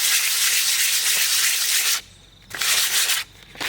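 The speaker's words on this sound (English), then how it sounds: "I'll do a light scuffing on this." A part of a Wood-Mizer LX25 sawmill gets a light scuffing, a bright abrasive rasp in close bursts, one long stroke and then two shorter ones separated by brief pauses.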